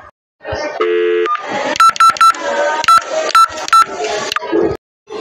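A telephone is dialed to reach the operator, with a quick series of sharp, loud touch-tone beeps spaced irregularly over a buzzy line hum, ending in brief silence.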